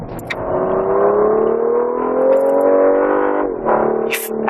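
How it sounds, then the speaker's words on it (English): A 2014 Cadillac CTS engine, with engine sound enhancement, revs loudly and steadily, pitch climbing smoothly, then dropping briefly before surging again, close and alone without talk. "it's the engine sound enhancement also"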